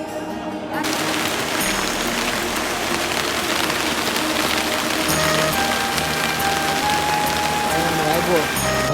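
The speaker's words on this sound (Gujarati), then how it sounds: "વરસાદ પડી ગયો છે" Rain falling steadily at the Kedarnath temple in the Himalayas, a dense continuous patter that stays loud and even throughout, with a brief quieter moment at the very start.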